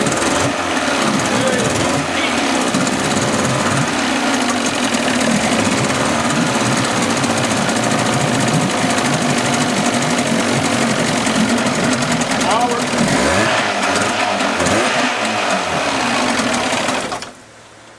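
A 1983 Evinrude 35 HP outboard motor, left sitting for years and run without a propeller, roars loudly and continuously with a rough knocking rattle for most of the stretch before cutting out, as a voice speaks over it.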